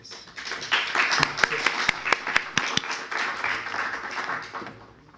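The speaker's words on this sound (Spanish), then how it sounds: "para quien pido un caluroso aplauso de bienvenida" Welcoming applause from an audience greets an invited guest speaker at a lecture on La vorágine, a dense wash of clapping that swells quickly, holds for several seconds with a few sharper claps standing out, then fades.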